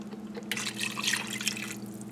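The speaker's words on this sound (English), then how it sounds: "So we're going to add 2 cups of beef broth." Beef broth poured into a pot of sautéed chili con carne vegetables, a soft liquid splash and trickle lasting about a second over a steady low hum, fairly quiet.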